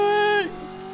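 In a video game, a car engine revs while ramming another car: a brief, strained high whine drops sharply in pitch, then fades to a quieter, steady rumble.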